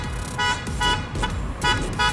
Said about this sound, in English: Honking their horns as they circle the Mecklenburg County Courthouse